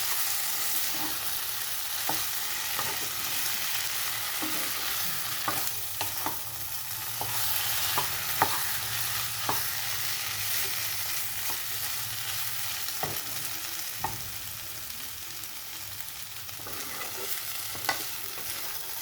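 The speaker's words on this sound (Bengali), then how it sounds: "মশলাটা দিয়ে একটু ভালো করে নাড়তে হবে যেন মশলাটা মিশে যায়।" Spiced potato curry for dosa frying in a pan, an even sizzling hiss throughout with scattered taps and scrapes of a spoon stirring the masala in, close and without any talk.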